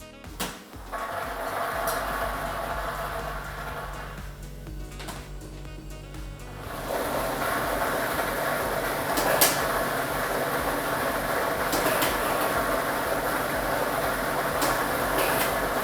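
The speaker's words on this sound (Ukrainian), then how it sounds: "І ми вмикаємо лототрон" Lottery ball drawing machine starting up for a Loto Maksyma draw, a sharp switch-on followed by a steady loud whirring rumble of mixing balls, with rattling clatter building after a few seconds and continuing to the end.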